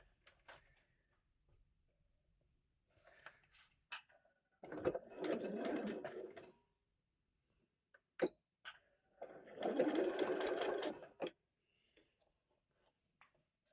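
A sewing machine stitches through layers of fabric for a storage caddy in two steady whirring runs of a couple of seconds each, with faint handling clicks and taps in between, close and quiet.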